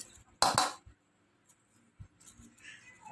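A spoon knocks against a dish while a Thai spicy salad is being mixed, giving one bright clustered clink of metal on crockery followed by a few faint taps in a quiet room.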